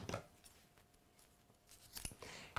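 Scissors snipping through fabric while making a simple apron, a few short crisp cuts near the start and end with quiet handling in between, fairly faint and close.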